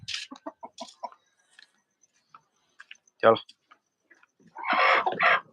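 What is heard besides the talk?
rooster and chickens clucking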